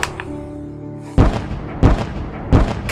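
Starship weapons firing and striking targets in the game Sunrider, three heavy booming impacts spaced about two-thirds of a second apart over a low humming drone.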